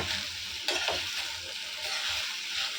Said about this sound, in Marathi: भेंडी आहेत ना ती ऑइलमध्ये फ्राय करून घ्यायची आहे